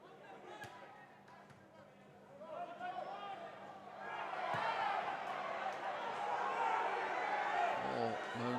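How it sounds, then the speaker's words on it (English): Home crowd at a Port Vale versus Leeds United U21s football match, a Vertu Trophy group game, swells from a low murmur into a loud, sustained groan of discontent that fills the stadium, with a commentator's voice faintly underneath. "Moans from the home crowd."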